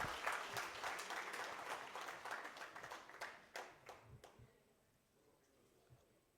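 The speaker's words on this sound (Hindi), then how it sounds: "तो सभी एक बार जोर से सर के लिए तालियां बजाएं।" An audience at a Rajasthan doctors' association gathering claps for a doctor about to speak. The applause is dense at first, then breaks into scattered individual claps and fades out near the end.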